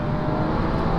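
A 600-horsepower car accelerating hard in fourth gear, a loud, steady engine roar heard close from inside for a single second.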